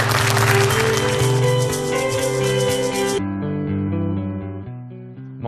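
A studio audience at a television talk show claps loudly over band music, then the applause stops after a few seconds and the music carries on alone.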